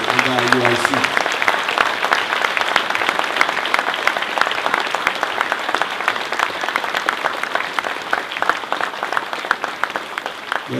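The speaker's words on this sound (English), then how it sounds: "I want you guys to give a hand applaud" Sustained applause from a large audience at a religious Passover class gathering, dense steady clapping throughout the full stretch, loud and continuous with no pauses.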